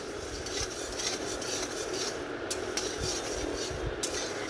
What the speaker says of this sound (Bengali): একদিকে আমি ডালটা ভেজে নিচ্ছি